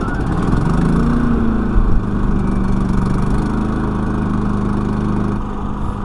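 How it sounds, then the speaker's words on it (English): A Champion generator, remote-started, runs at a steady mid-pitched engine drone with a faint tonal hum, loud and close, holding constant with no voices. "what you do is you turn on the battery, you turn on the gas, and you just click start"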